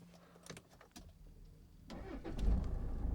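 A Range Rover Evoque is started by push button: a few clicks and a brief starter whir, then the engine catches and settles into a steady, close idle rumble, with no one speaking.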